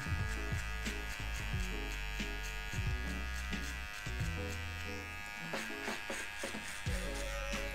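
Electric hair clippers finishing the edges of a fade haircut, buzzing steadily and loud at close range, with the pitch dipping and shifting as the blade is pressed and angled against the hair.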